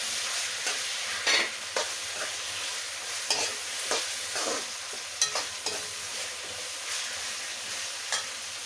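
Onion and tomato sautéing in a pan make a constant soft sizzle, punctuated by regular, close spatula taps and scrapes against the metal.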